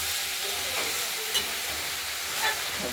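Tomato tipped into a spice paste frying in a pan for a vegetarian pea, potato and coriander ghugni, giving a steady close sizzle with faint stirring scrapes throughout.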